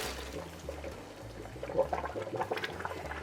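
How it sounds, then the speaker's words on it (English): A pot of blanched carrots and hot water poured into a strainer, giving a soft, fairly faint rush and splash of liquid that swells toward the end, with a low hum underneath. "I'll just take the whole pot over and strain these out and put them in cold water"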